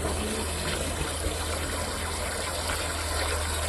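Water poured into a pipe to flush out a snake makes a continuous, fairly loud gushing and rushing sound that holds steady throughout, with no voices.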